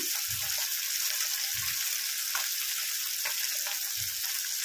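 Pabda fish frying in oil give off a dense, continuous sizzle and crackle, close and even, with a few soft low thuds from handling the pan.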